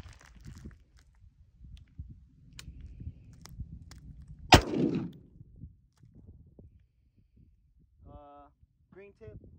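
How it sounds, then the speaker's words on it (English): A single .223 round with green-tip ammunition fired at a bulletproof vest gives one sharp, loud crack midway with a short rumbling decay, amid quiet outdoor background; brief voices follow near the end. "So now we're shooting a 223."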